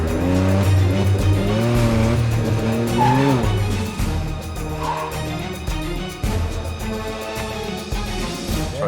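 Car driving hard in a Hollywood-style action scene, with a loud engine revving up and down, tires squealing and skidding throughout, dense and close with no pauses.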